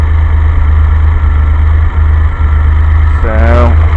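A DeLorean engine converted to a carburetor idles steadily with a deep, even rumble and slight vibration, close and loud, with a brief rising whine near the end.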